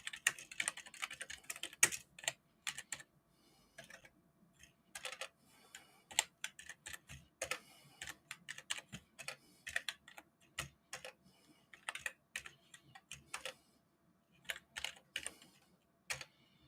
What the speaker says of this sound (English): I'm just typing to someone